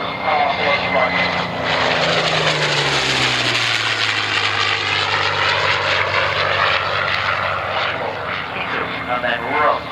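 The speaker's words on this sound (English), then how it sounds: "Big, powerful aeroplane." A large propeller aeroplane passes overhead at an evening air display at Shuttleworth, its loud, steady engine drone rising and falling in pitch as it flies by, with a commentator talking over it.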